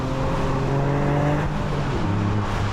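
Toyota GR Yaris driving on the road, a steady engine drone with a held low hum from inside the cabin, gear-related pitch shift late, no talk.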